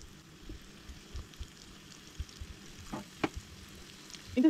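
Soft, steady sizzling of prawns frying on a flat griddle, with scattered crackles and pops, quiet and close, with no one talking.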